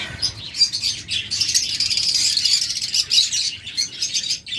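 Albino Fischer's lovebirds chirp continuously, a dense, bright twittering of overlapping calls from a pair of caged birds, steady and fairly close throughout.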